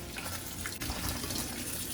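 Water running from a kitchen tap while a cup of water is measured to mix paprika and dried parsley powder for a fish gravy, a steady close splashing stream with no talking.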